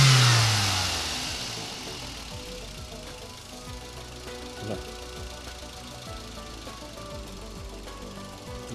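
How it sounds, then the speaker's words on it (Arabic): A car engine running with hydrogen added idles steadily up close, a low rhythmic mechanical chugging that settles after a brief higher whoosh at the start. "نسمع صوت المحرك إيش يحصل يعني"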